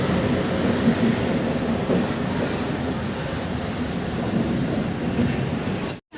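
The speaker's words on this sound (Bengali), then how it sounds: "Double engine." A passenger train hauled by a double engine rolls past on the Puri to Kolkata line, a steady loud rumble of wheels on rails with faint clickety-clack and a brief squeal, no talk, cutting off abruptly at the end.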